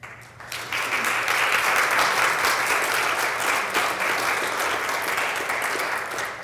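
A conference audience claps steadily and loudly for several seconds, a dense even wash of applause that swells in just after the start and holds with little variation.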